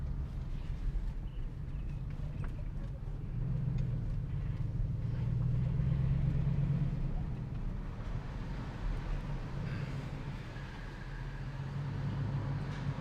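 A 1998 Ford F-150 pickup with a 4.6L V8, five-speed manual and 4x4 idles and creeps along at low speed while being parked in a garage, a steady low rumble throughout with no talking.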